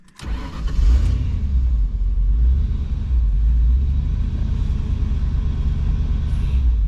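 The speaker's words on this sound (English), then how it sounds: "It's a very angry car right now." A 1995 Mustang GT convertible, left sitting a while on old gas, cranks and catches, then settles into a loud, rough, lumpy idle with a deep rumble close by.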